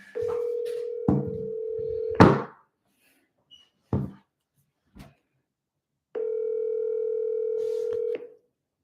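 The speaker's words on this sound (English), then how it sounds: "So let's pop on, make these phone calls" Dial tone from a landline telephone, a steady loud tone that breaks off for a few button beeps and clicks, then comes back as a steady tone near the end.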